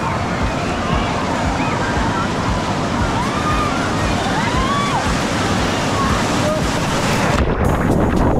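Surf rolling in at the Typhoon Lagoon wave pool, a steady loud wash of breaking water with heavy wind buffeting on the microphone throughout, the roar continuing unbroken for the whole stretch.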